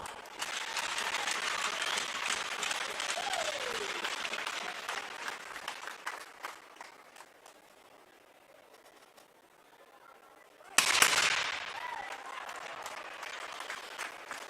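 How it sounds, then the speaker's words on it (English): Crowd applause in a hockey arena during a Virden versus Dauphin game, fairly distant clapping that swells, then fades out over several seconds, followed by a sudden sharp burst of renewed noise later on. "How about a round of applause?"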